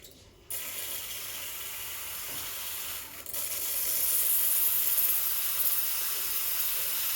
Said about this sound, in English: Now let's steam some milk.